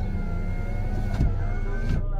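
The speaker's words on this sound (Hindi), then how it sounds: "विंडो ऊपर" A car's electric power window motor hums steadily as the window closes over a low engine idle, finishing with a soft thump near the end of the short clip.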